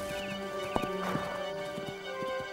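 Horse hooves clip-clopping with a neigh, close by in a 1996 family adventure drama, several hoof strikes over a steady background with a brief whinny in the middle.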